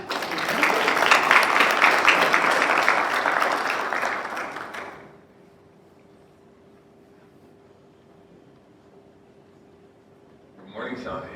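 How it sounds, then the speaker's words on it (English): Loud, sustained applause from an audience welcoming a speaker at a homecoming event fades out, leaving quiet room tone before a brief noise returns at the end. "give me a warm round of applause for him"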